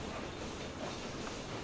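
The Firefly steam train from the game Railroad Empire 2 rumbles along with a steady, faint rolling clatter and soft hiss, a continuous low mechanical drone with no voices.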